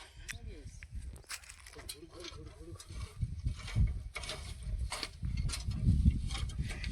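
A hand-pushed weeder hoe works the soil of a groundnut field, giving uneven metallic rattles, scrapes and clanks that grow busier toward the end, with voices nearby.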